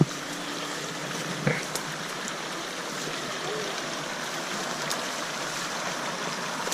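A campground creek flows in a steady, broad rushing wash, close and fairly loud, with a faint brief knock early on and no clear talk.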